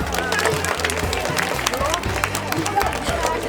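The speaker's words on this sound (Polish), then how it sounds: "Brawa dla Mikołaja." A crowd at a children's event claps for an actor dressed as Santa Claus, dense steady applause throughout with babble and voices mixed in.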